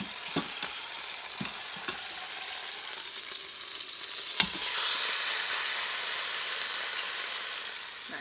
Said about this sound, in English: Do you hear that sizzling? Yeah, so we're gonna let that sizzle for about 4 to 5 minutes